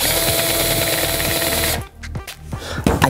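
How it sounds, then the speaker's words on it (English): A power drill bores into a block of dry ice to widen a hole for a fidget spinner bearing, giving a steady close whine for almost two seconds that cuts off into a few short bursts and clicks. "So let's keep drilling a little bit."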